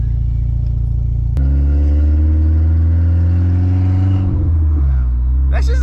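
A Volkswagen MK4 GTI 20th Anniversary Edition with a 3-inch catless downpipe idles loudly, then its pitch climbs in a strong rev before dropping back, with a harsh, droning exhaust tone up close.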